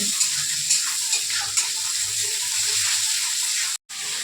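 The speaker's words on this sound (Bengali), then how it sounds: "আমাদের আজ দুপুরে মাংস রান্না শুরু হয়ে গেছে।" Meat with spices frying in a pan for a home-cooked lunch, a continuous hissing sizzle with a few soft stirring knocks, a brief dropout near the end.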